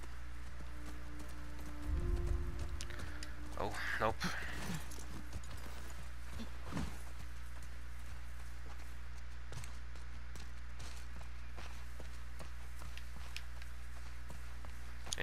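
Horse hooves clip-clopping in The Last of Us Part II, a short cluster of steps close by against quiet ambience, with a brief spoken remark.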